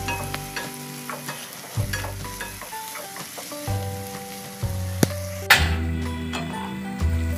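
Vegetables for a brinjal tamarind kuzhambu frying in oil in a pan, a constant close sizzle broken by rhythmic spatula scrapes and clanks against the pan, with a louder clatter near the end.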